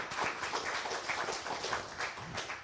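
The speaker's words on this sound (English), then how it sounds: "Give our council a clap." Crowd applause at a Jacksonville, Texas city council meeting, a dense steady patter of many hands clapping together, moderately loud and sustained without pause, no voices on top.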